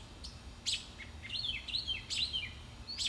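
An owl calls at night on a home patio, giving a handful of short, high, chirping notes in irregular bursts, fairly faint over quiet outdoor background.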